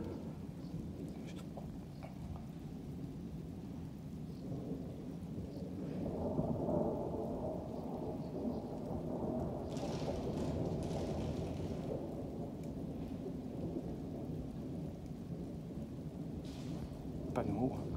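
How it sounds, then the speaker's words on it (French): Violent summer thunderstorm over Clermont-Ferrand in Auvergne, a continuous low rumble of thunder swelling midway with steady rain hiss throughout, heavy and sustained, with some faint voices under it. "pour aller filmer le cœur d'un orage aussi violent comme ça"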